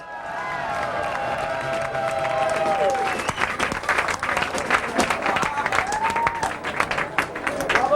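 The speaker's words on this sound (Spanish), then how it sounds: "demos un fuerte aplauso a la internacionalmente ignorada Hedwig" A crowd gives loud applause and some cheering for a drag performer named Hedwig, the clapping swelling over sustained tonal voices or music early on, then dense, close, rapid clapping.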